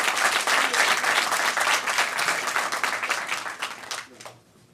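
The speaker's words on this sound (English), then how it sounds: "Can we just give them another round of applause?" Dense audience applause after young participants speak at a summer youth employment press conference, steady and loud for about four seconds, then tapering off to a few scattered claps.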